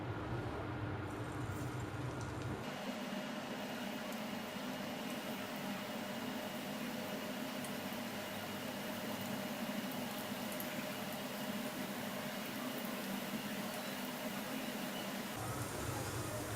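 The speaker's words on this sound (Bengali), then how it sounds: "চুলার আঁচটা লো করে এখন এগুলো ভেজে নিচ্ছি।" Shrimp fritters fry in hot oil on low heat, a steady dense sizzle and bubbling that runs without a break for many seconds after a brief louder start.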